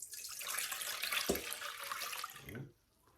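Beef broth for a pepper steak sauce pours into a pan in a steady splashing rush, with a brief knock partway through, then cuts off abruptly near the end.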